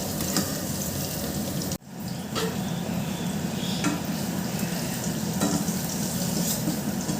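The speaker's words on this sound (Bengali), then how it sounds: "হালকা করে পনিরগুলো ভেজে" Paneer fries lightly in a pan with a steady, close sizzle and stirring throughout, broken once by a brief dip, and no one speaks.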